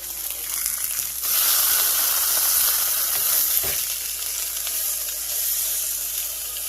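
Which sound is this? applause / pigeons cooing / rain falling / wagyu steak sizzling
wagyu steak sizzling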